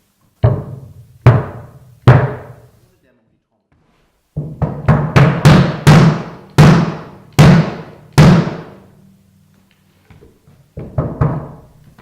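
Bass drum struck alone during tuning with increased head tension, in irregular groups, each boomy hit ringing out with a short tonal sustain, close and fairly loud, with gaps between phrases.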